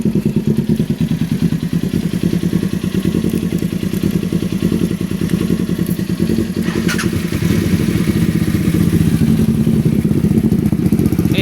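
A heavy big bike motorcycle engine runs steadily with a deep, pulsing rumble, holding a loud, continuous throb throughout with slight rises in revs.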